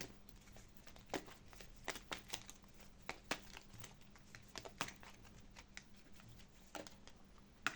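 Tarot cards shuffled and drawn from a deck, a soft ongoing riffle of papery flicks and crinkles with sharper snaps now and then, close and quiet with no talk.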